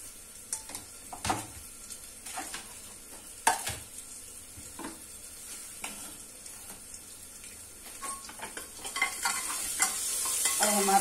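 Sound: masala with garlic and ginger paste frying and being stirred

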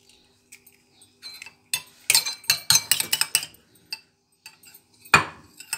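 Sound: beating an egg in milk in a bowl

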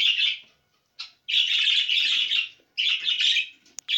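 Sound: pet birds chirping in a breeding cage

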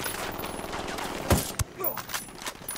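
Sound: gunfire in the video game Ghost Recon Wildlands

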